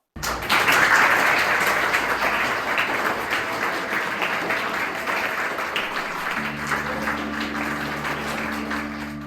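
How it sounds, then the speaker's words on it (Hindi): Loud, sustained audience applause welcoming a spiritual teacher, Guru Gopal Das, at a stage event, dense clapping that runs steadily throughout with a low musical drone entering near the end. "एक बार जोरदार तालियों से स्वागत करेंगे गुरुदेव का"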